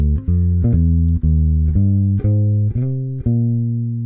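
An electric bass muted with sponge foam is plucked near the neck, giving a sequence of round, warm, sustained low notes with soft attacks, evenly paced, up close and alone.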